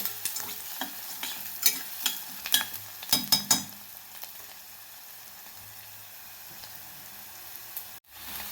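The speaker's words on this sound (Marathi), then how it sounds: "तर इथं कांदा भाजत आला आपला" Onion frying in a pressure-cooker pot for sprouted-bean usal, a quiet sizzle broken by several sharp scraping stirs early on, then a steady soft hiss before a thud near the end.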